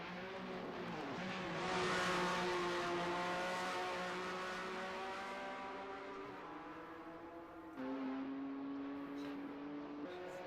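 Race cars in a 1970 touring car racing game at Brands Hatch drone past with a sustained engine whine that swells and fades, then shifts pitch as another car closes in, with no voices heard.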